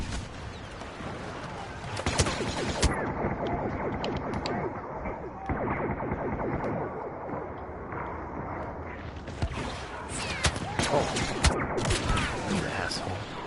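Dense blaster gunfire in the video game Star Wars Battlefront, rapid overlapping shots and bursts near and far under a continuous battle din, with talk mixed in.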